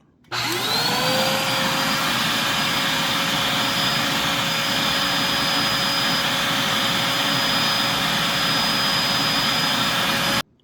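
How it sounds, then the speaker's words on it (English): A traditional upright vacuum cleaner switches on and runs loud and steady at about 87 to 91 decibels, a constant roaring whine with a high pitched tone, then cuts off. "here is a traditional upright vacuum. We'll see the sound level of it"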